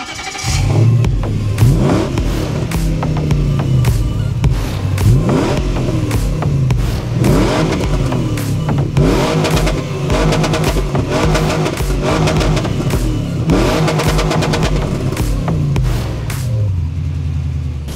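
A Nissan Patrol Y62 with modified headers and exhaust is revved repeatedly, loud throaty engine bursts rising and falling in rhythm over a deep rumble, heard up close with no talking.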